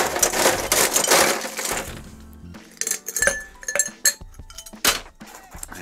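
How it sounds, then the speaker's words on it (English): Ice cubes clink and rattle into a cocktail glass while a Jack Daniel's honey whiskey cocktail is made at a home bar, first as a dense loud cascade, then as scattered sharp individual clinks close to the microphone. "oh, fresh ice in my glass."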